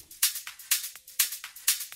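Bright, shimmering ride cymbal hits from an electronic track's drum group repeat in a steady pattern, with short ticking strokes between the washy accents, played alone at a moderate level.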